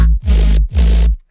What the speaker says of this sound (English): Very distorted, but all of these together sound like this with the sub as well.